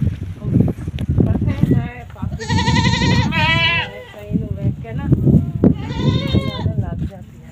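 Goats in a village household bleat loudly nearby, with several drawn-out wavering calls that come and go over people talking.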